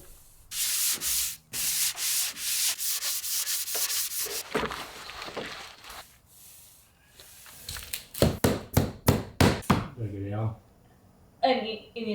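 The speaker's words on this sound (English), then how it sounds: "light sanding with 220 grit in between each coat" Light hand sanding of polyurethane-coated knotty pine boards with 220 grit paper, rhythmic rubbing strokes close to the microphone, with a quiet pause midway and then a burst of quick, short strokes.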